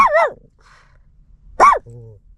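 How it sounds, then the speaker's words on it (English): A small dog gives a couple of short vocalizations, a brief yelp followed after a pause by a sharper bark-like sound, close and fairly loud in an otherwise quiet kitchen. "Give it a growl, Mookie."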